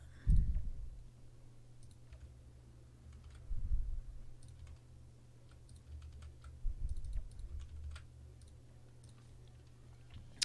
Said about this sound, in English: It's mostly the clicking that can be heard